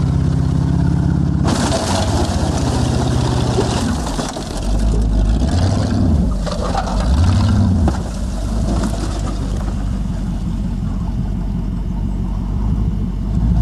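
A Lincoln smashing into a Honda at a farm demolition event, with loud, sustained engine roar and a heavy crunching impact as the front end pops off, dipping briefly before the revving and grinding resume.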